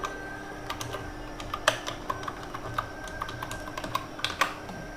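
Keyboard keys tapped on a computer while a software name and a setup-download query are entered into a search, a light irregular run of clicks with small bursts, close and fairly quiet with no talk.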